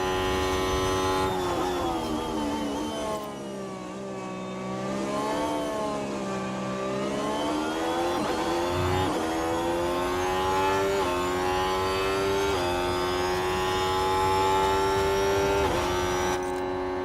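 Formula 1 race cars in the F1 Manager 24 game at Japan scream past with high, shifting engine tones, revving and changing gear continuously and loudly throughout.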